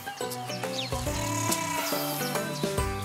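Goats bleat repeatedly in a farmyard, several loud, wavering calls overlapping close by with no talking.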